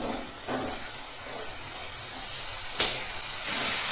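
Spiced tengra fish hisses and sizzles steadily in hot oil on medium-high heat as it is stir-fried, a continuous close sizzle broken by a couple of brief scraping stirs.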